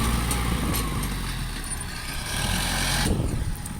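A tractor with worn-out rear tyre treads pushes fill dirt at a land-filling site, its engine a steady, loud, continuous rumble with a constant low drone throughout.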